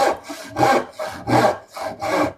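A hand saw cuts slowly through a wooden board for a bookcase, making about five rhythmic rasping strokes close up, each a gritty back-and-forth rub with short gaps between.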